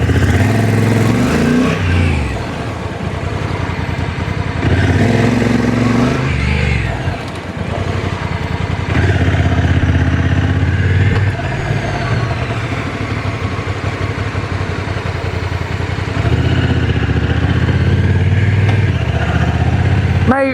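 A Honda motorcycle accelerates briskly, its mid-pitched engine revving up loudly and close, easing off, then building again in repeated bursts before dropping back as it comes to a quick stop.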